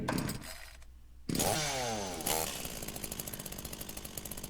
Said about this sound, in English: All of a sudden, she pulled her chainsaw's recoil starter.